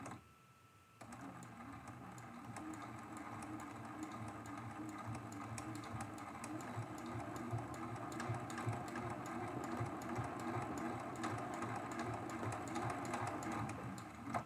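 A sewing machine runs steadily and fast, close by, while free-motion quilting a circle in tiny stitches on a small quilted mug rug. The rapid stitching hum goes on without pause and no voices are heard.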